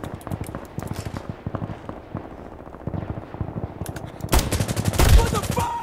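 Insurgency Sandstorm gunfire comes as rapid bursts of sharp shots. It starts as quieter, steady automatic fire, then grows louder and denser with close, heavy volleys near the end, and a voice talks between the shots.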